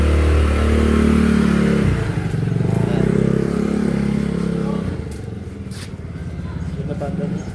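A Euro 150 scooter engine revs loudly up close, rising and falling in steady bursts, with a brief dip before climbing again.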